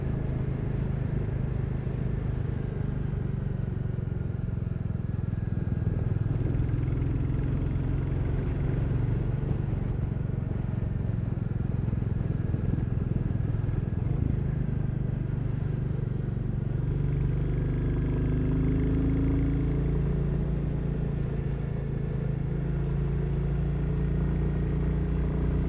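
A Royal Enfield Classic 350 motorcycle rides along with a steady low engine rumble and constant road and wind noise, unchanging throughout with no gear shifts.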